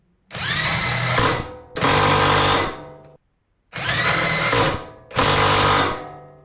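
Four loud bursts of rapid mechanical hammering from a Parkside Performance 400Nm cordless impact wrench, each lasting about a second, separated by short pauses.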